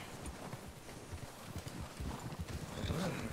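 Horse hooves clip-clop at a steady trot in Red Dead Redemption 2, fairly close, with faint wind and ambient noise behind.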